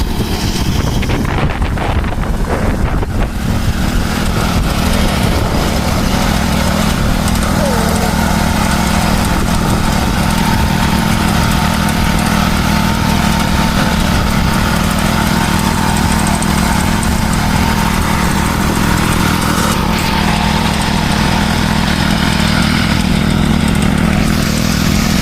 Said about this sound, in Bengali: ধান কাটার মেশিন আমার এই ভাইটা চলায়